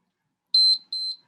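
A laboratory timer alarm sounds two short, high, piercing beeps in quick succession, close and clear against an otherwise silent background.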